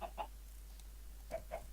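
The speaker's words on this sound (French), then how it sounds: "Oh, mais vos gueules aussi, les poules là." Chickens in the video game Minecraft give short clucks: a pair of quick clucks, a pause, then three more, fairly faint over a low steady hum, with no talk.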